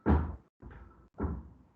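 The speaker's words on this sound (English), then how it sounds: "I'll just close the door" An indoor door is pushed shut, giving three soft muffled thumps and knocks in quick succession, fairly quiet and close, with no talk.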